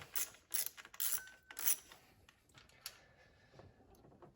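A ratchet tightens ignition coil screws on an engine. Fast bursts of close, crisp clicking come in the first couple of seconds, followed by a few faint taps and quiet.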